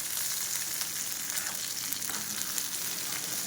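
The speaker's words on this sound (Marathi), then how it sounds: "तर पाहू शकता मस्तपैकी मिरची भाजली गेलेली आहे" Green chillies roast and sizzle steadily in a hot pan for a Maharashtrian thecha, a dense, continuous crackling hiss close to the microphone with no talking.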